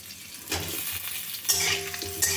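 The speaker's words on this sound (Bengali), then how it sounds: "আলুগুলো সব একসাথে মিশিয়ে নিয়ে ভেজে নিতে হবে" Cut potatoes stirred and fried in a pan, a steady sizzle broken by repeated scraping strokes of a spatula against the metal, close and fairly loud, with no talking.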